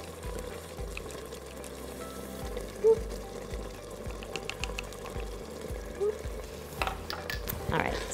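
Chicken and spices sauté in an Instant Pot as a utensil stirs them, with soft scraping and gentle sizzling, close and fairly quiet, and a few brief clinks along the way.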